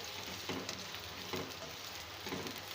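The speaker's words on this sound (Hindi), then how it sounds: "बस 1 मिनट के लिए हम इसको मीडियम फ्लेम पर सौते कर लेंगे।" Capsicum and onion sauté in a pan over a medium flame for kabab gravy, giving a steady close sizzle with a few soft stirring scrapes and no talk.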